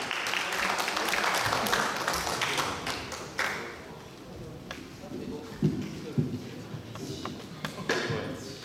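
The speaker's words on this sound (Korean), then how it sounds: "박수 부탁드리겠습니다" An audience at a university student mock presidential election applauds a speaker being welcomed to the podium. The dense clapping fades into scattered taps and thumps, with talking nearby.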